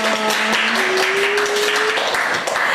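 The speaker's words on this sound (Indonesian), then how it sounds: "Tepuk tangan dong" A small audience applauds on an Indonesian talk show, a dense patter of claps running steadily throughout, fairly loud and close, with a sustained tonal hum sitting underneath.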